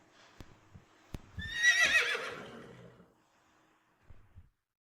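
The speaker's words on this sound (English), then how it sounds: "Horse says neigh as horses do" A horse neighs once in a long, quavering whinny lasting over a second, fairly close and clear, with a few faint thumps before and after and no talking.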